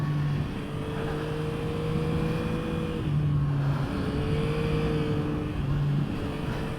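A 2021 Yamaha MT-09 SP motorcycle pulling hard in second gear, its engine note rising in steady climbing sweeps with brief dips between them, heard from on board under rushing wind.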